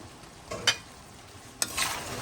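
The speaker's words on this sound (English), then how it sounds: "So we'll add in our rice" Washed jasmine rice tipped into a pot of lamb shanks and spices for a Fiji-style palau: two short rustling, sizzling pours about a second apart over a quiet background.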